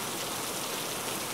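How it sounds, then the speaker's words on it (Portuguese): Heavy rain falls steadily outdoors, a dense, loud, even hiss of drops with no pauses and no voices. "Tá chovendo e não para"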